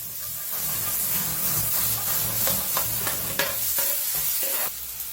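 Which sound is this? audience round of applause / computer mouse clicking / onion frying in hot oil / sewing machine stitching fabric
onion frying in hot oil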